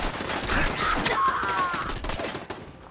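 An automated turret in the Fallout 4 video game fires a dense, continuous burst of rapid gunshots mixed with game effects, loud and sustained for nearly three seconds.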